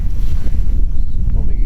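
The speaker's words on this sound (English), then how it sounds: "So the wind is blowing me this way." Steady wind buffets the microphone out on Presque Isle Bay, a loud continuous low rumble with gusty swells and no speech.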